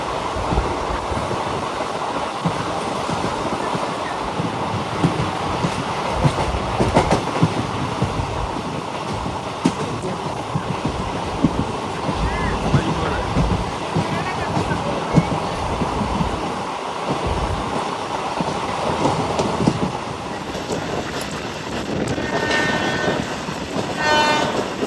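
A Bhuj–Rajkot express train runs non-stop through a station, heard from on board as a loud, continuous rumble of wheels and carriages with rattling clatter throughout and a horn sounding over it.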